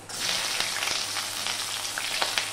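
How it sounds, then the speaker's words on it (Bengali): Garlic and onion frying in spiced oil for ghugni produce a steady, close hiss of sizzling with faint crackles and light spatter pops throughout. "রসুন পেঁয়াজটাকে আমি একটুখানি ভালো করে ভেজে নেব"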